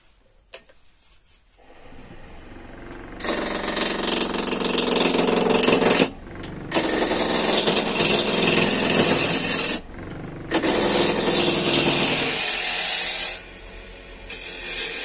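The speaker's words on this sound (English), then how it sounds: "I'm just taking a few of the corners off it on the table saw" A table saw cuts the corners off a block of shop-bought firewood in three loud, close passes. Each cut is a few seconds of harsh, full-bodied ripping, with short pauses where the blade runs freely between cuts.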